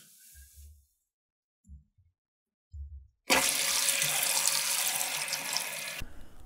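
Water rushes loudly into a toilet tank refilling after the supply is turned back on, following a hard-to-push handle repair, a steady close hiss starting abruptly midway after a few soft knocks, then cutting off.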